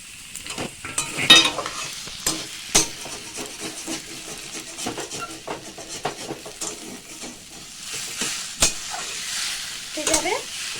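Kochur sak (taro leaves) get stirred into a frying pan, giving repeated close scrapes and clacks of a spoon over a low sizzle. The strokes come irregularly for several seconds with no talking.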